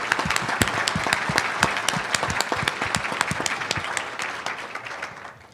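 Audience applause fills the room at an annual business association meeting, many hands clapping steadily for several seconds before thinning out and fading near the end.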